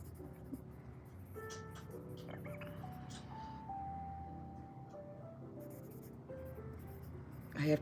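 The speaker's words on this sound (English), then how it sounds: "I always try to write a note inside." A pen scratches out a note inside a Christmas card at a busy New York City spot, with faint steady scribbling under street traffic and a tonal ice cream truck melody in the background.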